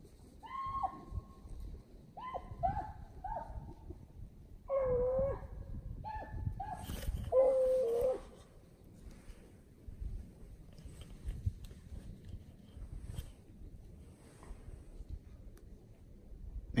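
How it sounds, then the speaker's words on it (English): Hunting dogs on a deer drive bay and howl in a series of drawn-out cries, some close by, during the first eight seconds. Quieter rustling and outdoor ambience follow. "I'm down here by Crutch's dogs, right on top of me, about 50 meters from me."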